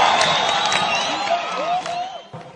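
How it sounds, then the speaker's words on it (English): Crowds lining the streets of Eldoret greet President Kibaki with a steady roar of cheering, scattered applause and whistles, with a voice speaking over the noise. "Kibaki acknowledged greetings from crowds that lined the roads"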